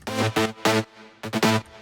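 A new school trance synth chord pattern pumped by Kickstart 2 sidechain, short stabs that swell in and cut off in a bouncing rhythm, with a brief gap midway, loud and upfront with no voices.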